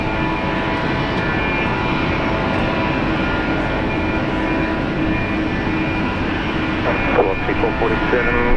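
A Velocity passenger plane rolls for takeoff on runway 19 right at Brisbane Airport, its engines a steady, loud broadband roar that holds level throughout, with a voice talking faintly over it.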